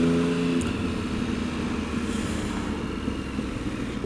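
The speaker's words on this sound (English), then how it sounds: "Very powerful bike, very powerful." A powerful motorcycle engine runs steadily with a low rumbling drone, fairly close and continuous, a faint higher whine briefly at the start and no talking.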